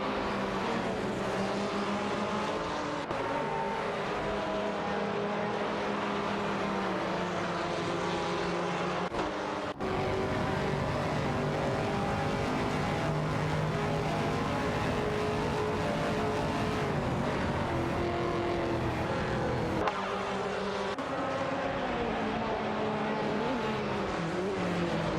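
AI-driven GT race cars in a sim racing game, among them an Aston Martin Vantage GT4 and a Ginetta G55 Super Cup. Engines drone steadily at high revs with shifting pitch, loud and continuous, with brief breaks where a gear or car changes.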